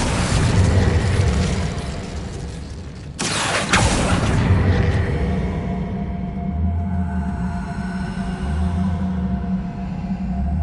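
A fiery Incendio spell bursts in Hogwarts Legacy, a loud boom around three seconds in over a steady rumbling game soundscape, with blazing crackle trailing off afterward.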